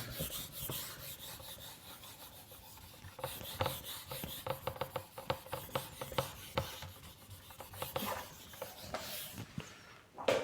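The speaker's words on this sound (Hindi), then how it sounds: "इसको रब कर देते हैं और आगे देखते हैं।" Writing from a chemistry lesson is wiped off a board with quick, irregular rubbing and scraping strokes, fairly faint and close, some bursts sharper than others, with no talking.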